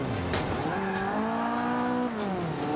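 Racing car in Forza Motorsport 5 on Xbox One, with a loud sustained engine whose pitch rises and falls while tires scrub and a brief impact thud sounds at the start.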